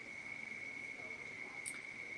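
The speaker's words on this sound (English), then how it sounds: "How loud are those crickets?" Crickets chirp outdoors at night as a steady, continuous high trill that holds at a moderate level throughout, with faint background ambience underneath.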